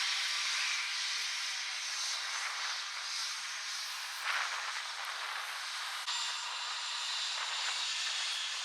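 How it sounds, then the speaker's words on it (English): An EasyJet Airbus A320neo airliner departing Manchester Airport for Tenerife gives a steady, fairly distant jet roar and hiss that swells slightly midway and stays continuous throughout, with no talking. "another EasyJet going off to Tenerife. Airbus A320 Neo."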